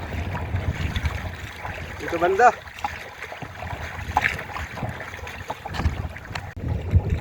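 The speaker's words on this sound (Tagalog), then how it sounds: "Ngayon eh, mahangin na mga lods. Medyo malon-alon kaya pumapasok yung dagat sa butas." Gusty wind buffets the microphone around a small outrigger boat with a leaking hole, riding choppy waves at sea, with water sloshing and someone speaking briefly over the noise.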